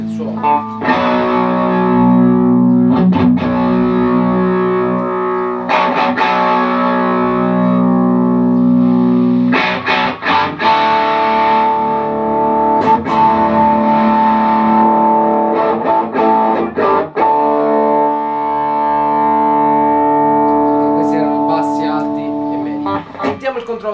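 Electric guitar played through a JOYO AC Tone overdrive pedal with its voice control fully closed, giving sustained overdriven chords and single notes with sharp picked attacks and ringing decay, loud and close, with a voice talking over parts.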